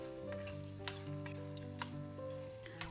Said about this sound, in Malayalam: കപ്പലണ്ടിയും ചേർത്തിട്ട് നല്ലവണ്ണം ഒന്ന് മിക്സ് ചെയ്യുക